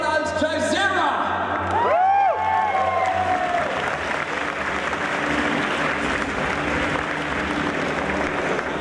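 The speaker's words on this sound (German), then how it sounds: "Einen großen Applaus" A crowd applauds at the Gamescom 2014 costume contest, loud sustained clapping with whoops and cheers from a large audience in a hall, with brief amplified voices at the start.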